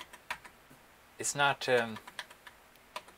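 Scattered keystrokes on an old computer's keyboard, sharp individual taps spread across the moment, with someone briefly speaking in the middle.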